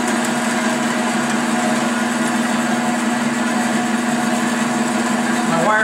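Bandsaw running freely after a blade change, a steady loud motor hum with a constant whining tone throughout, with a brief rising squeal at the very end.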